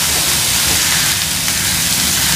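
Onions and ginger sautéing with salt in a pan, a loud, dense, continuous hiss and sizzle filling the whole stretch without pause or speech.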